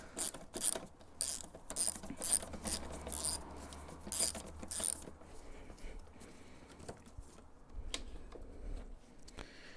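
Ratchet clicking in quick bursts while removing a bolt on a BMW E39, crisp metallic ticks close up at first, then slower, quieter mechanical rattles and clinks.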